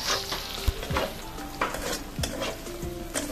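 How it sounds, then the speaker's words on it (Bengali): Onions and bay leaves sizzling in a hot pan over low flame, with steady frying crackle and a few scraping stirs of a spoon against the pan. "ফার্স্টে আমি তেজপাতা দিয়ে পেঁয়াজটাকে ভালো করে লাল লাল করে ভেজে নেব।"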